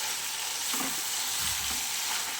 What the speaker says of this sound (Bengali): এটা একদম ভাজা ভাজা করে একদম ভর্তা করব